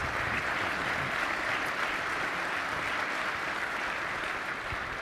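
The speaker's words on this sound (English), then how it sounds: "give them a huge round of applause" Sustained audience applause at a military symposium in Huntsville, Alabama, a dense, steady clapping roar that holds evenly through the whole stretch without any talk over it.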